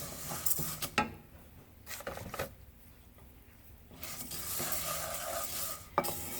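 Fideo noodles toast in a pan over medium heat, with a soft, steady sizzle broken by scraping stirs and occasional clinks of a utensil against the pan, close and fairly quiet.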